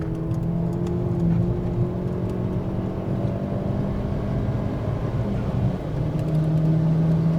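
Ford Fiesta ST180 Stage 2+ driving a lap of Snetterton race track, heard from inside the cabin as a continuous loud engine drone with steady tonal hum and slight pitch shifts, no talking.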